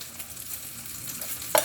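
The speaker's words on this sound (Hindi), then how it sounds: "इसको भी हम फ्राई करते हैं।" Filled puffs frying in butter in a hot frying pan give a soft, steady sizzle, closing with one brief louder scrape or tap.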